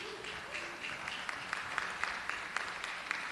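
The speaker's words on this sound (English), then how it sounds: "Please, no applause, please." Brief, faint applause from a small group at a public hearing, with scattered claps at an uneven rhythm in a quiet room.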